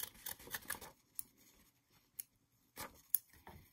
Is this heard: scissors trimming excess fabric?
yes